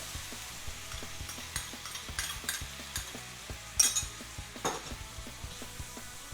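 Chicken with crunchy vegetables stir-fried in a pan with fish sauce and palm sugar for Thai chili basil chicken, a soft steady sizzle broken by repeated light scrapes and clinks of a utensil stirring.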